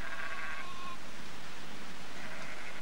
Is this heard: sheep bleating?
yes